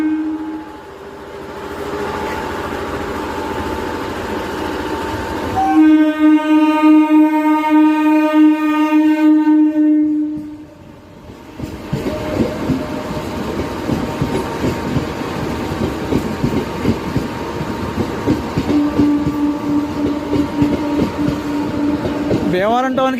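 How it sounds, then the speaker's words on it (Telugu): A Vijayawada–Bhimavaram MEMU train arrives at a station near Bhimavaram, its loud horn sounding for several seconds amid the steady rumble and clatter of the rolling train, with people talking in the background. "Vijayawada junction Bhimavaram memo train కూడా వస్తుంది"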